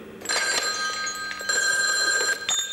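A telephone rings in a French TV advert from 1997, a loud, bright electronic trill repeating in quick bursts with no talk over it.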